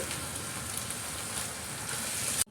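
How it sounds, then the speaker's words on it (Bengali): Boiled rice is stirred into melted sugar in a pan while making malai zarda, giving a steady close hiss and sizzle that runs unbroken for a couple of seconds with no talking. "এখন আমি এর সাথে যে চালটা সেদ্ধ করে রেখেছিলাম সেই চালটা আমি দিয়ে মিক্স করে নিচ্ছি"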